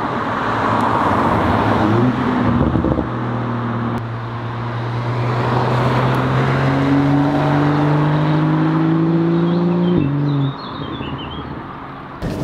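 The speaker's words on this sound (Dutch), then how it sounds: "En lekkere plofjes in de uitlaat." BMW X4 M40i with a sport exhaust, its engine note climbing steadily under load, then the throttle lifts and a few crackling exhaust pops follow, loud and close with no talk.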